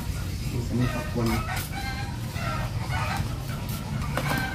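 Chickens cluck and a rooster crows in a noisy outdoor farmyard, several bird calls scattered across a few seconds over steady background noise and faint talk.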